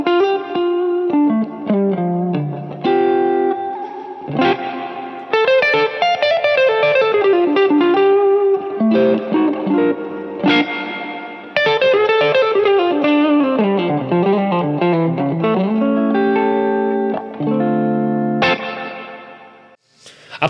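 Electric guitar through an amp with its analog spring reverb pushed too long, playing melodic phrases and chords that ring out with a long washy tail, steady and fairly loud, no voices.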